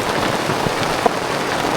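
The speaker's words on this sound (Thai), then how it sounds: "ฝนก็ตก" Steady rain pours down, a dense unbroken hiss with scattered heavier drops, loud and close with no voices.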